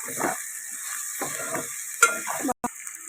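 Ginger garlic paste stirred in a pan while cooking moong dal rice: several short scraping strokes with soft sizzle between them, over a steady background hum.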